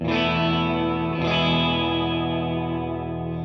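Electric guitar chord through a Keeley Caverns V2 pedal on its tremolo spring reverb setting, sustained and wavering with a fresh re-strum about a second in, ringing out with a lush tail and no talking.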